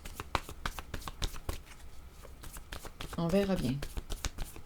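A deck of cards being shuffled for a card draw, with repeated crisp riffling bursts close by, heard under a speaking voice.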